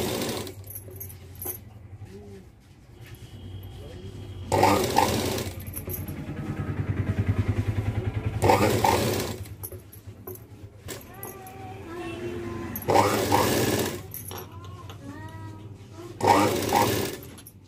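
A sewing machine stitching piping onto a size 36 blouse runs in several short loud bursts separated by pauses, with someone speaking quietly between the runs.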